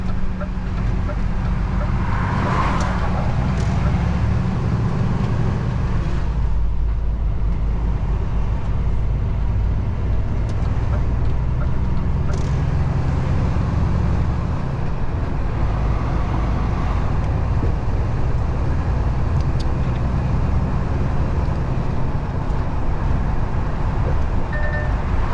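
A truck drives along a roadway with a steady, loud engine rumble and road noise from start to finish. The rumble swells at times as the engine pulls harder, and faint traffic and brief talk sit in the background.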